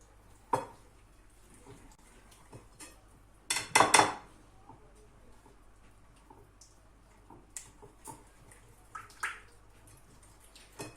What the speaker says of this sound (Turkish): ilave ettikten sonra yavaş yavaş karıştırıyorum